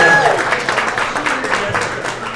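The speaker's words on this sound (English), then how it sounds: "Let's give those folks a big round of applause." An audience breaks into steady applause, a dense wash of clapping that holds at an even level with some crowd noise underneath.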